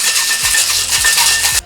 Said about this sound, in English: Give this one a quick shake with some pebble